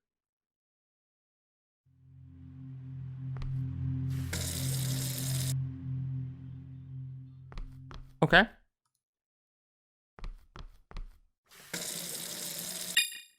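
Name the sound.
cup being filled with water from a tap in a video game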